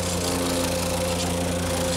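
A plate compactor runs steadily on a paver sidewalk base, a loud continuous engine drone with a strong low hum and rattling vibration, close and alone with no talk.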